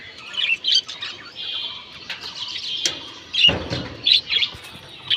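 A busy chorus of birds chirping and squawking together, with overlapping calls and occasional louder squawks, fairly close.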